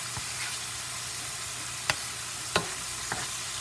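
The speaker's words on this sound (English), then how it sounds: "I'm going to finish stir frying that tofu" Steady frying sizzle of tofu in a pan with a few sharp scrapes and clinks of stirring, no voices.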